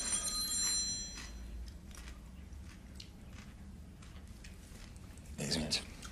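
A telephone rings briefly at the start of a scene in a Russian melodrama film, a short, bright electronic trill that quickly gives way to quiet room noise and faint movement.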